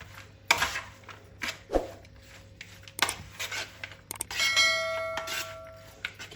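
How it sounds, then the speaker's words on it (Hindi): Spoon clinking and scraping against a metal bowl while mixing ingredients with lemon juice, irregular close metallic knocks and ringing taps over several seconds. "अब अच्छी तरह मिक्स करेंगे।"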